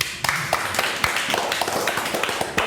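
A small group claps hands during an Indonesian talk show about IPDN cadets, a scattered burst of overlapping claps lasting a couple of seconds, fairly close and light, with no speech over it.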